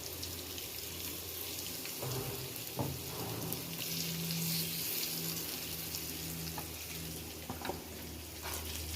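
Marinated paneer pieces with onion and capsicum frying in a pan, giving a steady low sizzle with faint popping, heard alone at moderate distance.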